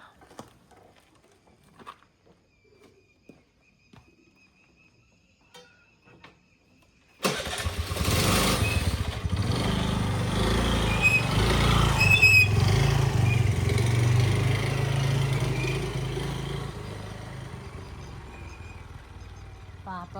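An old motorcycle kicks into life after a few quiet knocks and faint voices, then settles into a loud, steady, close engine putter that holds for about ten seconds before easing slightly.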